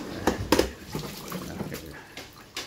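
A 2017 Panasonic NP-TR9 dishwasher begins its wash, with rushing, splashing water and a few louder surges near the start and end over a constant watery hiss.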